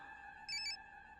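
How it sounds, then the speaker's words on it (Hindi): A short electronic phone ring, two quick warbling pulses over a steady low hum, fairly faint. "मुक्ति कपूर का फोन"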